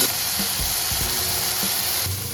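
Potatoes fry until crisp in a pan for a fasting-day dish, giving a steady soft sizzle and crackle with small pops scattered through it, alone and at a low, close level.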